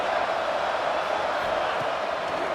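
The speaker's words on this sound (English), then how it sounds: "this home crowd is fired up and ready to make a difference today" Home crowd cheering at a college football game, Ohio State rivalry matchup, a steady roaring wall of stadium noise that stays loud and even throughout.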